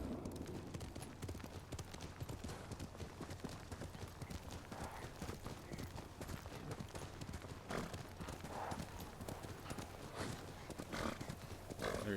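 Steady clip-clop of horse hooves at a gallop in the video game Ghost of Tsushima, continuous and fairly loud over a low constant hum, with occasional faint background sounds.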